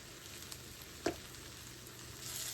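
Penne pasta dish with Parmesan cooking down in a pan, giving a steady close sizzle with a brief louder crackle partway through and the frying swelling slightly toward the end.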